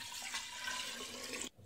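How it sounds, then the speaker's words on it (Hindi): Water is poured into a glass jar holding spices for kanji, a steady rushing, splashing stream heard close and clear for about a second and a half before stopping suddenly. "इसमें पानी डाल देते हैं"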